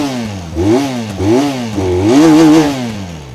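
A single-cylinder motorcycle exhaust, a Benelli Leoncino 500 BS6 with a side-hung single-barrel exhaust and twin exits, revs up and down several times, loud and close, its throaty note rising and falling in quick blips.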